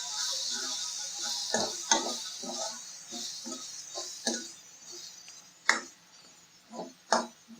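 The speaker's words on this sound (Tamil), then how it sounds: "நல்லா கிண்டி விட்டுக்கலாம்." Chicken masala with garam masala and onions stirred in a pan gives a run of fairly regular soft spoon knocks against the pan, with a few sharper clanks, close and quiet over a faint steady hiss.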